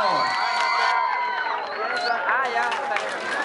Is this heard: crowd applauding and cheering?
yes